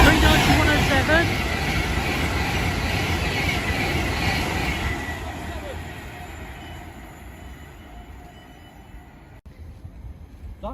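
A train sweeps through Nuneaton station on the fast line, a loud rushing roar with rail clatter that builds and then slowly fades as it recedes.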